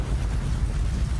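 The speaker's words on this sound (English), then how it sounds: "Yamamoto versus Yuha started off with an Bleach. explosion, if you will." Explosion in a Bleach anime fight scene between Yamamoto and Yuhabach: a dense, roaring blast of noise that stays loud and sustained throughout, with no talk.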